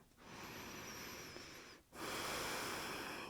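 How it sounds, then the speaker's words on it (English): Deep, steady Ujjayi breathing during an Ashtanga yoga practice: a long hissing breath through the throat, a brief pause, then a stronger and slightly louder breath, close and alone. "Deep, steady, rhythmic Ujjayi breathing."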